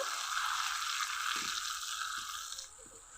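Spice paste sautéing with chicken for morog polao, a steady broad sizzle and hiss throughout with a few soft stirring knocks, fading slightly toward the end.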